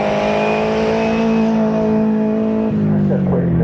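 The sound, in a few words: race car accelerating up hill climb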